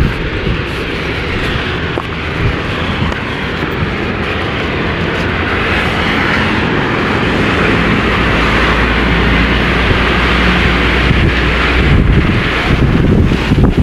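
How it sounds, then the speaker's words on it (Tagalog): Strong wind roars and buffets the microphone continuously, a loud, steady rushing that grows slightly stronger over time. "Grabe lakas ng hangin ay."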